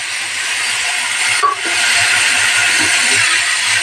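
Marinated chicken mixture tipped into a hot pan with whole garam masala, bay leaf and cumin, bursting into a loud, steady sizzle after a brief clatter and continuing strongly throughout, with no talk.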